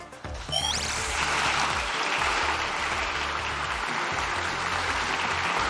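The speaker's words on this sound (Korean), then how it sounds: "12번의 박수가 나왔는데요." Lawmakers in a parliamentary plenary hall applaud during a president's speech, a dense, sustained round of clapping that follows a brief moment of lighter noise.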